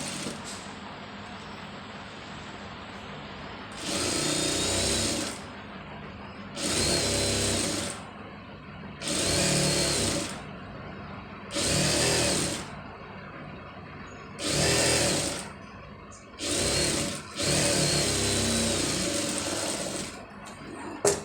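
A sewing machine stitches a folded sleeve in about eight loud, close bursts of rapid whirring, each a second or two long, separated by short quiet pauses.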